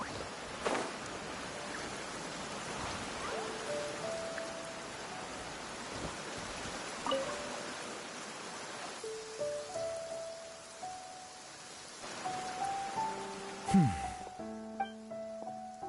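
Rain falls steadily in a video game scene, a soft, even hiss at moderate distance, joined later by scattered tonal game chimes and effects.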